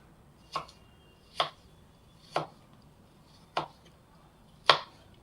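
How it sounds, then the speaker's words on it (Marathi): A knife chops through a thick carrot on a cutting board, five crisp, evenly spaced strikes, close and clear against a quiet background. "आता आपण याला असं छान कापून घे"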